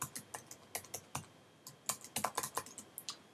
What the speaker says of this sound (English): The best way to find a friend is to type in the name of that friend in the search box here.